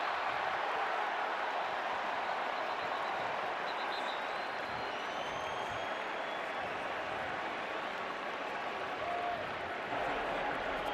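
Sold-out crowd at Kinnick Stadium during a college football game, a dense continuous roar of cheering and clapping that stays loud and steady from start to finish, with no individual voices standing out.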